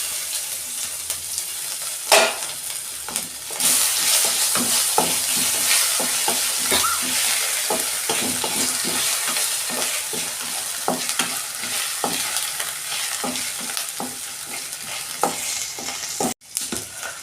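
Panch phoron spices and grated ginger sizzle hard in hot oil, a loud continuous crackle that swells just after it starts, with irregular stirring clicks throughout and no talk.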